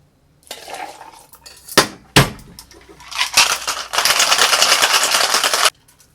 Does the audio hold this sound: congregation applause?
no